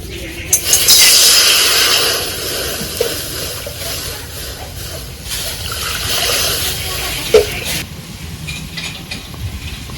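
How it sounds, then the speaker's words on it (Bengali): Water poured into a hot wok of fried potatoes for a fish curry broth hits with a loud hissing sizzle that fades into a gentler bubbling, under a voice speaking nearby. "এবার ঝোলের জন্য কড়াইয়ে জল দিয়ে দেবো"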